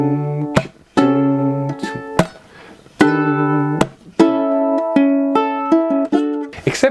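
Ukulele fingerpicking the repeating loop of a song, with bright plucked notes in a steady rolling pattern and short pauses between phrases, close and clear with no voice.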